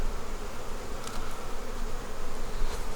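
Honey bees at an open hive being readied for winter make a dense, continuous close-up buzzing hum that stays steady and loud throughout, with no talk.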